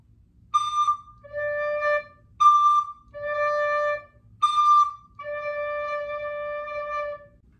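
Played on a recorder in a primary music lesson, a mother owl call: three paired phrases, each a short higher note falling to a longer lower one, the last held longest, clear and unaccompanied.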